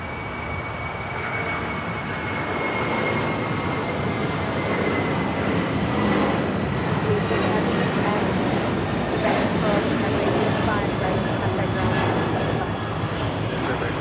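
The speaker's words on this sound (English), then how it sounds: "This is Coletta Air 613 taking off to Cincinnati on the 747-400 freighter." A Boeing 747-400 freighter taking off at LAX, a loud sustained jet engine roar that swells and holds steady for the whole stretch, with a voice talking over it.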